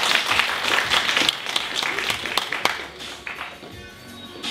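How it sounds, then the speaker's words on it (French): Audience clapping at a children's birthday party magic show, a fairly brisk burst that gradually thins out and fades toward the end. "on peut l'applaudir très très fort."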